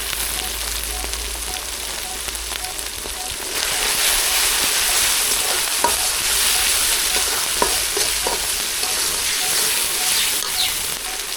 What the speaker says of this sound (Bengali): এবার দিয়ে দিচ্ছি জিরা আর ধনিয়া একসঙ্গে করে বাটা।